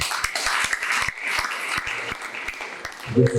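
A church congregation at an evangelical service breaks into applause, a dense wash of many hands clapping for a few seconds, with a voice briefly coming in at the end.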